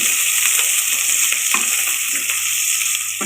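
Chopped onions hit hot oil for chana pulao, giving a loud, steady sizzle with occasional stirring scrapes, close up and without talk.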